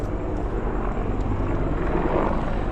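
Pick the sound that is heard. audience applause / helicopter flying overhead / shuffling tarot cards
helicopter flying overhead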